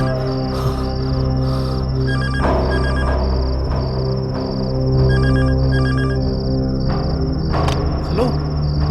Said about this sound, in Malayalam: സാർ ഫോൺ റിങ് ചെയ്യുന്നു.